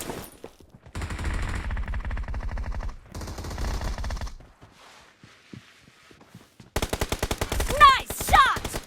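Automatic gunfire in the battle royale mobile game BGMI, loud rapid bursts in several clusters with short pauses between, closing with a fast volley and sharp ricochet-like zings.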